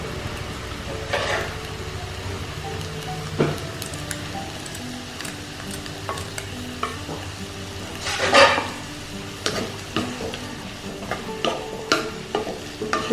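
Tomato soup being stirred in a pan with salt and celery stalk added, soft wet scraping and stirring sounds with a few sharper spoon clinks against the pan, quiet and close, no voices.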